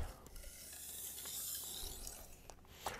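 Gritty, scraping edge-leading strokes of a knife blade drawn across a synthetic whetstone, a continuous grainy rasp with a couple of sharper swipes near the end, close up.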